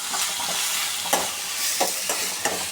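Ginger, garlic and dried chillies stirred in hot frying oil, a close, lively sizzle punctuated by several sharp spatula scrapes and knocks against the pan.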